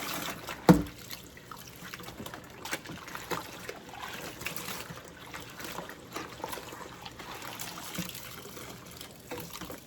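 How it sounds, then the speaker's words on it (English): Water runs and trickles as a pan is washed out at a kitchen sink, with a sharp clank early on and soft splashing continuing under low background noise. "Oh, wash out this pan,"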